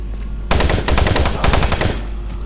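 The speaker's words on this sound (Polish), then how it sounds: "O kurczę, ktoś mi strzela." Automatic gunfire aimed at the player in the first-person shooter Doom 3 rattles out in dense, loud bursts for about a second and a half after a near-silent start, with no talking.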